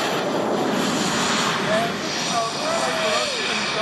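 Model F-16 jet flying during a radio-control aerobatics contest at Joe Nall, a steady broadband engine roar from a distance, fairly loud and continuous throughout, with faint crowd chatter underneath.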